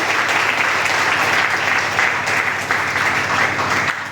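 A crowd at an Indian stage event applauds loudly for star Amit Kumar. The clapping is dense, close and unbroken throughout, holding a steady roar without a break.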